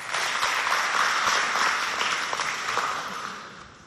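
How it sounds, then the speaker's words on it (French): An audience at a school talent show applauds a poet being welcomed to the stage, with a full burst of clapping that holds strong and then gradually fades toward the end. "on accueille sous vos applaudissements Souraya Bichara"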